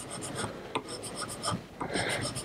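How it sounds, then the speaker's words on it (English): Rasping scrapes of an African blackwood piece rubbed along the teeth of a metal file while cleaning it, a close, rhythmic series of short strokes with brief pauses and no talk. "working along the grain of the teeth of the file, you can rub it out"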